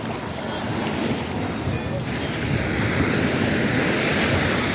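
Rough sea waves wash against the shore in a loud, continuous roar, mixed with gusting wind buffeting the microphone, and people talk nearby.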